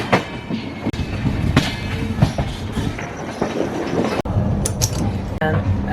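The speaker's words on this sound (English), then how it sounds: "this is the train right over here" A passenger train riding on rails on a Pune to Delhi route, heard from inside a coach as a loud, steady rumble with rhythmic clickety-clack of wheels over joints and occasional sharp metallic knocks.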